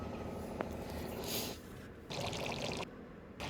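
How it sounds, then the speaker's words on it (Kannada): Water poured into a pot of hotel-style chicken curry and stirred in, giving soft pouring and sloshing bursts that start and stop in short spells, fairly close and moderately quiet, with no talking. "ಇನ್ನೂ ಸ್ವಲ್ಪ ನೀರು ಹಾಕ್ಕೊಂಡು ಚೆನ್ನಾಗಿ ಈ ಥರ ಮಿಕ್ಸ್ ಮಾಡ್ಕೊಳ್ಳಿ"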